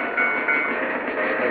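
A train rolls past on the Mario Kart 64 track with a loud, steady rumble and rattle that holds close and continuous for a moment, with no talking.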